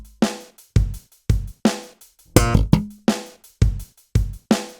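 Up-tempo slap bass pattern of a pull-off, left-hand slap and muted slap, played faster as a tight, driving run of snappy plucked notes and percussive muted clicks, close and clear with no voices.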